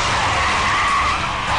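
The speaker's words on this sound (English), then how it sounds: "He peels donuts while his pals look on." A new sports car doing donuts produces a loud, continuous tire screech with roaring engine noise throughout, close and alone with no talk.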